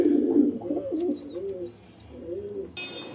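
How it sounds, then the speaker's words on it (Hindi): Pigeons coo in low, soft, repeated bursts, fairly close and loudest at the start, with a few faint higher chirps late in the clip. "ये देखिए दोस्तों हमारे कबूतर धीरे धीरे नीचे आने लगे"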